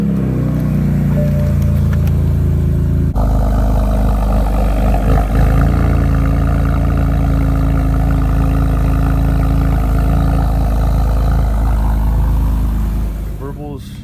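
BMW 328i cold start, the engine cranking and catching into a loud, deep idle with a rumbling exhaust burble that holds steady close by before tapering off at the end.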